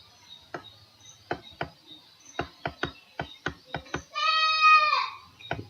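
A series of sharp, irregular knocks is followed by a single wavering goat bleat, fairly close, then one more knock.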